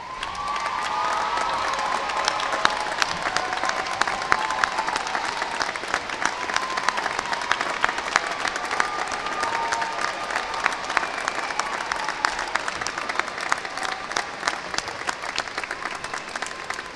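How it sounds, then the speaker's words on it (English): Sustained applause from a large audience at a university winter undergraduate commencement ceremony, steady dense clapping filling the hall with some cheers and whoops scattered through it. "please stand so that the graduates may show their appreciation to you by a round of applause."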